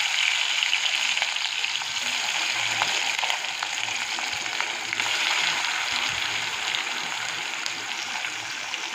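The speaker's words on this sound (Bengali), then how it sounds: "তেলটা গরম হয়ে গেছে। এবার আমি মাছটাকে এক এক করে দিয়ে দেবো।" Katla fish pieces fry in hot oil in a pan, giving a steady, loud, continuous sizzle with no talking.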